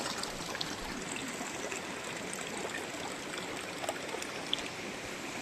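Steady rushing of water being poured out, continuous and fairly close, with faint splashy detail throughout and no voices.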